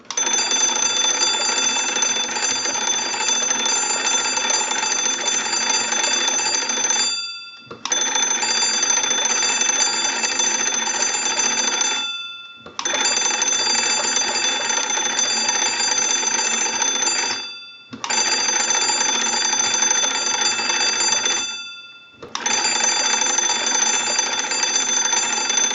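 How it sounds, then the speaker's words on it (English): Bells of an original Leich wood wall telephone ring in five long, loud, continuous bursts as a newly installed magneto is cranked, each ring separated by a short pause. "we want to go ahead and crank the magneto that's been installed and ring the original bells"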